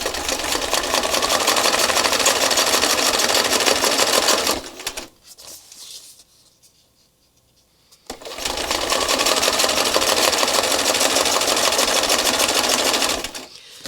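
A sewing machine runs at high speed during free motion stitching, loud and close in a steady rapid whir. It stops for a few seconds of near silence, then starts up again at the same pace.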